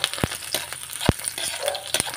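Garlic and onion sauté in a hot pan, a steady close sizzle broken by a few sharp scraping stirs of a utensil.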